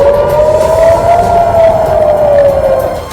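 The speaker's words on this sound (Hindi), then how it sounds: "जिसके बाद वहां हमलों की चेतावनी के सायरन बजने लगे" Air raid warning sirens wail at Tel Aviv airport, one steady rising and falling tone held loud and continuous over a low rumble of background noise.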